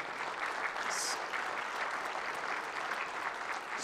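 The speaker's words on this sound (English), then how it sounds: "You can clap for that." A church congregation claps steadily together, a dense, even wash of applause that carries on throughout without any voices.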